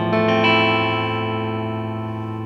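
Clean electric guitar chord played through a THD Univalve Class A EL34 valve amplifier, struck and left to ring, sustaining and slowly fading over a couple of seconds, alone with no talk.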